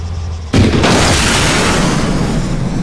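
A grenade detonates in the military shooter game Arma 3, a sudden loud boom about half a second in that rolls into a sustained rumbling tail.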